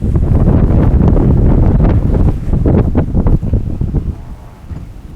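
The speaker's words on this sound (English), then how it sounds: "Wind is definitely picking up." Loud, blustery wind buffeting the microphone in strong roaring gusts at a rowing race course, rumbling and continuous before easing slightly toward the end.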